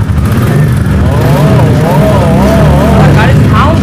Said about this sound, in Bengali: সাউন্ড শুনিয়ে দাও ইঞ্জিনের